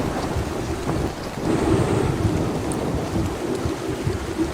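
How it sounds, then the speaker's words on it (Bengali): A thunder and rain sound effect: steady heavy rainfall with low rumbling thunder rolling beneath it throughout, fairly loud with no voices. "এরপরেই এক তীব্র বাজ পড়ল"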